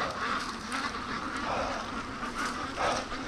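Free-range Muscovy ducks give several hoarse, breathy calls spaced across a few seconds. The calls are moderately close over faint outdoor background, with no talking.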